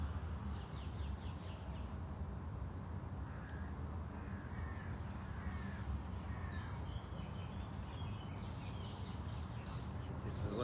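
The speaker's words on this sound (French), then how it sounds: "Oiseaux qui sont en train de se courser" Crows caw repeatedly in a park, a run of distant hoarse calls over steady outdoor noise and a faint background hum.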